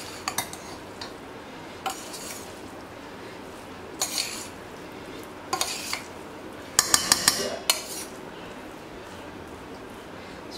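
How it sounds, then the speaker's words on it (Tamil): Vegetable biryani with ghee is stirred in a pot, giving quiet, close spoon scrapes and sharp metallic clinks in sporadic bursts, with no talking. "மேலே ஃபைனலாக கொஞ்சம் கீ ஆட் பண்ணிக்கோங்க, நல்லா அப்படி மிக்ஸ் பண்ணிங்கன்னா."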